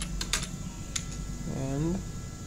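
Keys click on a computer keyboard in a quick burst of close keystrokes, followed by a brief voice.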